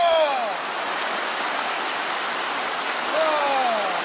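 Cold glacier-runoff river in Denali National Park rushing steadily during a backcountry river crossing, a loud continuous wash of water heard close by with a couple of brief whistling or squeaky tones over it.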